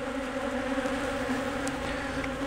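Honey bees buzzing around an open beehive during an inspection, a close, steady drone with a constant pitch that carries on without a break.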